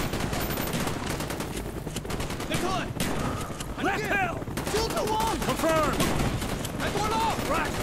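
Mini AK gunfire in the video game Call of Duty Black Ops, with dense rapid automatic bursts that are close and loud, mixed with game sounds and voices talking throughout.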